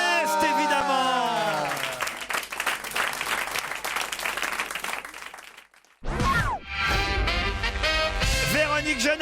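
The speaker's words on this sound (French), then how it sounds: "Vous pouvez l'applaudir." Studio audience on a French talk show applauding a guest of honour, a busy patter of clapping mixed with voices and music, cut by a brief drop before loud voices and music return.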